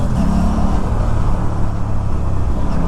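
An Aprilia RS 457 motorcycle engine roars steadily under open throttle on the road, a loud, close, continuous drone mixed with rushing wind noise.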